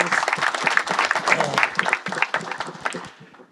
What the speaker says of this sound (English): Let's give each other a little round of applause.